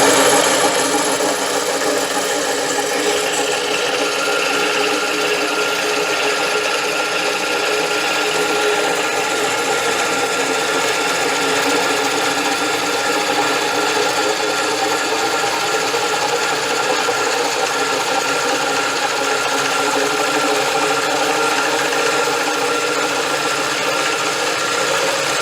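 A 1918 Jas. Clark Jr. Electric Co. friction drive drill press running near 4,000 RPM, a steady loud whirring mechanical drone with a fine rattling texture that holds unbroken throughout, no voices.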